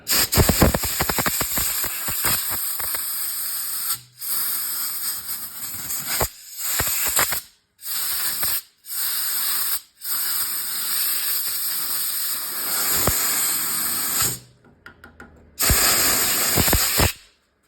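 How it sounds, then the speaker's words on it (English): Air compressor nozzle blowing air over a small wood-turned bud vase, repeated loud hissing bursts of varying length separated by short pauses, continuing throughout. "Now I'm going to grab the air compressor and see if that bug juice just kind of flies out."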